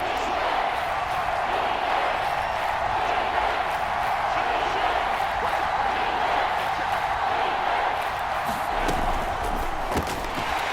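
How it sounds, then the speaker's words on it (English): A stadium crowd roars in a steady, dense wall of noise ahead of a big third down in the Madden NFL 22 video game, with commentators talking over it. "the crowd getting into it as we come up on a big 3rd down"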